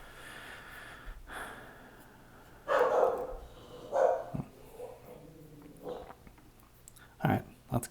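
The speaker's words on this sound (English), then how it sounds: "my dog's barking." A dog barks several times in short gruff bursts, muffled and somewhat distant indoors, with breathy snorts between and low background noise.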